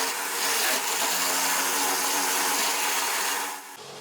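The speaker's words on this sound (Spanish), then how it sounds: "realizando un agujero a 90 grados con el primer taladro" A power drill fitted with a hole saw bores a hole at 90 degrees into wood, giving a loud, steady grinding whine with a ringing tone that runs for about four seconds and then eases off near the end.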